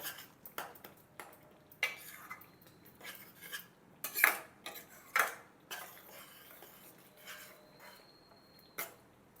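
A spoon clinks and scrapes against a pot while mixing cumin and coriander powder into a capsicum masala curry: scattered, uneven metallic taps and a few brighter rings over a quiet kitchen background.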